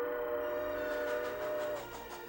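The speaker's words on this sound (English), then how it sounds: "Somewhere, a child hears the sound of a train." A historic steam locomotive sounds its whistle in a loud, sustained blast that holds steady and then fades out near the end, with faint rumble underneath.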